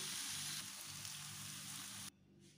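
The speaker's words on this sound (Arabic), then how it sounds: "وغنخليها حتى تكمل الكبدة الطياب ديالها وتشحر كاع المكونات مع بعضياتهم ويطيبوا" Liver filling for mini batbout fries in a pan with a steady, close, dense sizzle that drops off abruptly near the end.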